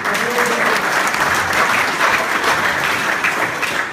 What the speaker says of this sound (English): big applause for Jason, the human microphone.